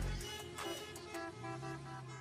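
Car horns honking in traffic: several short toots and a sustained horn blast over a low vehicle rumble, faint and distant, about two seconds long.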